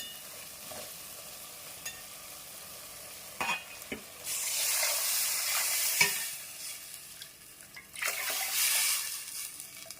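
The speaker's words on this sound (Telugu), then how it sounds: "ఇప్పుడు చింతపండు జ్యూస్ అయితే మనం పోసేసుకుంటున్నాం" Tamarind juice splashes into a hot pan of fish-head curry with two bursts of hissing sizzle, amid occasional soft clinks of a utensil against the pan.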